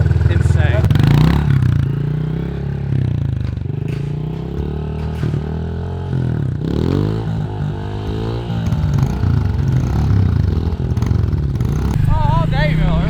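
A dirt bike engine at an abandoned house track, loud revving that rises and falls in bursts, heard under excited talk between riders.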